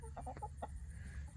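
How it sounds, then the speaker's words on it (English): A Cinnamon Queen hen, a cross of Rhode Island Red and Silver Laced Wyandotte, gives a quick run of four or five short, soft clucks, then goes quiet. The clucks sound faint over a low background rumble. "our chickens are Cinnamon Queens, which are half Rhode Island Red, half Silver Laced Wyandotte"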